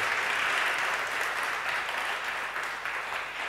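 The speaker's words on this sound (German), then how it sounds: "Und ich erwarte in diesem Moment Applaus." Steady applause from a sizable crowd at a talk and music event, a dense wash of clapping that holds evenly and fades slightly toward the end.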